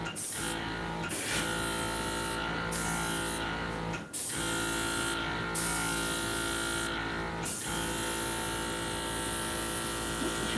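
Airbrush spraying alcohol ink onto a surface, a steady buzzing hiss from the compressor and nozzle that cuts out briefly several times before resuming, close and fairly loud with no talking.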